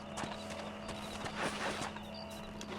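A horse in the Red Dead Redemption video game clops and shuffles in place, with quiet hoof steps and a faint snort against a low steady game ambience.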